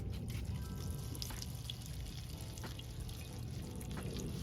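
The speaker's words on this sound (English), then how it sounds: "On this first day, we can water the cutting from the top." Water poured from the top onto a freshly prepared plant cutting in soil, a faint, soft trickle and splash running steadily through the quiet moment.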